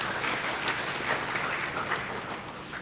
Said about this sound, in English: I think we can clap for the sponsors